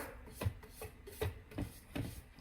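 A spatula scraping down the inside of a Thermomix TM7 bowl, four soft rubbing scrapes in an uneven rhythm, quiet and close with no talk.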